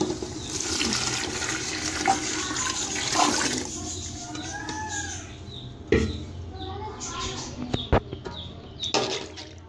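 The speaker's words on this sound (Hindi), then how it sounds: "उसके अंदर मैं 7 कटोरी पानी ऐड करूँगी।" Water poured into a cooking pot of rice and soaked chana for chana pulao, a steady splashing stream through the first few seconds, then quieter trickles and clinks, with a few faint bird calls in the background.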